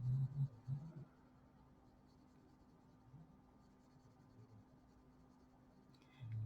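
Colored pencil laying down a first layer on paper: soft, close scratchy strokes in a few short bursts, quiet with long pauses of faint room hum between them.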